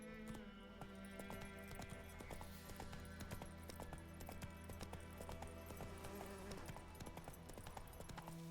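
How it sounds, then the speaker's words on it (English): A horse gallops in Witcher 3: Wild Hunt, its hooves clopping in a fast, steady rhythm, fairly close and continuous through the whole stretch with no talk. "Whoa there, Roach"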